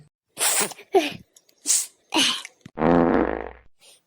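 Several short breathy bursts lead into one long, buzzing fart that rattles for about a second, close and fairly loud, with quiet gaps between sounds.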